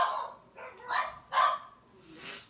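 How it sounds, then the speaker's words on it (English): A dog barks several times in short separate bursts, moderately loud and close, with brief pauses between them. "What is she barking at?"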